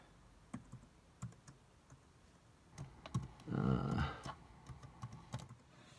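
A password is typed on a computer keyboard at a desk: scattered quiet key taps in an uneven rhythm, with a short denser burst of clatter midway, close and faint with no talk.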